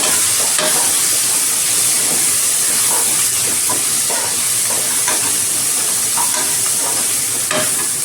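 Loud, steady sizzling and crackling of onions and dried red chillies sautéing in a hot pan, with occasional scraping stirs.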